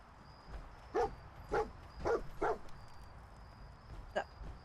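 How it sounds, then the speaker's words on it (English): A dog in Fallout 4 barks in four quick, fairly faint calls spread across a couple of seconds, followed by one more bark after a pause, over a quiet ambient hum. "I hear the dog barking."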